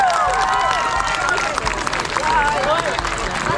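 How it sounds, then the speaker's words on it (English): Applause and cheering from a lively crowd for the Philippine Pavilion at a Filipino community talent event, a dense steady wash of clapping mixed with shouts, whistles and crowd babble throughout. "Big round of applause for the Philippine Pavilion"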